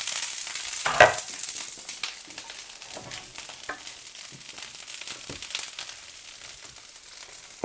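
Asparagus sizzles and crackles in a hot pan with a steady frying hiss, broken by a few sharper pops and stirring scrapes.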